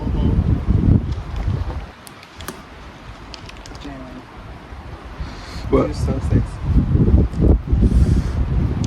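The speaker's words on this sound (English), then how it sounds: "It's windy as fuck now." Gusty wind buffets the microphone in loud rumbling bursts outdoors, easing for a few seconds before strengthening again, with people talking briefly over it.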